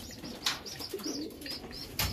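Pigeons coo softly inside a bird loft, with low murmuring calls and a few faint wing flutters over a hushed background.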